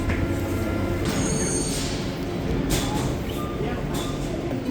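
In a Santiago de Chile metro station, a train rumbles steadily with faint wheel squeals, under continuous people talking.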